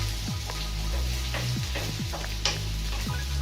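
Vegetables frying in a pan over low heat, giving a steady soft sizzle with occasional stirring scrapes and light ticks close by, no talking.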